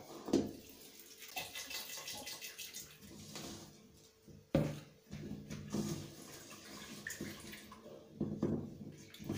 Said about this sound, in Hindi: और अब इसमें हम डाल देंगे पानी,